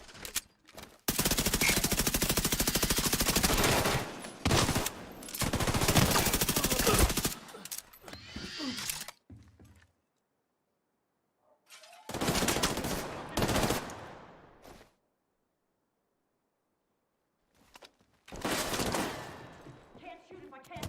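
Turret machine gun firing in The Division 2, loud sustained bursts of automatic fire separated by short silent gaps, with game combat sounds.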